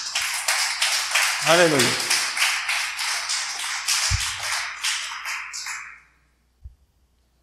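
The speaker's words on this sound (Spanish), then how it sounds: "Dale un aplauso fuerte al Señor." A church congregation claps loudly and steadily for about six seconds, the sound overlapping with voices singing and shouting, and then it cuts off into near silence.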